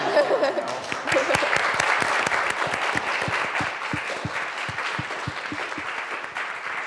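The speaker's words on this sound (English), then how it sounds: "Could I get another huge round of applause for the students and the panel?" Loud audience applause at an MIT student healthcare panel event, dense clapping with a few distinct, sharper claps standing out rhythmically, sustained evenly and close.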